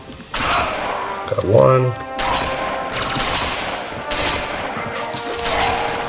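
Shotgun blasts in a Halo/Doom video game, with several loud booming shots and busy combat noise running throughout, while someone talks over the action.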